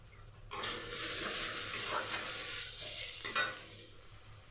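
Slit green chillies sizzle and get stirred in a frying pan of hot oil for a masala dry chicken dish. The close, bright, continuous frying hiss carries a couple of scraping stir strokes.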